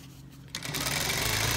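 An industrial sewing machine hems the bottom of padded trousers, starting after a brief pause into a steady, close, continuous whirring stitch run with no speech.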